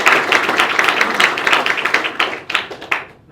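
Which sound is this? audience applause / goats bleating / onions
audience applause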